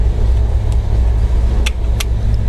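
An Alvis Saracen armoured vehicle's engine runs at a steady idle, a loud, continuous low rumble close by, with a few faint clicks on top and no talking.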